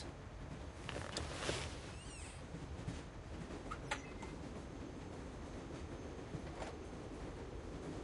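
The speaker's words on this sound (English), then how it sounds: "Oh no, runaway train." A runaway train in a video game rumbles steadily with rail clatter and a few sharp metallic squeals and clicks, with no talk over it.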